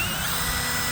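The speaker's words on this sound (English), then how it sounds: "Essentially, we're going to drill with a little bit" A power drill bores into screw heads on a travel trailer, a loud, steady high-pitched whine held close and unbroken.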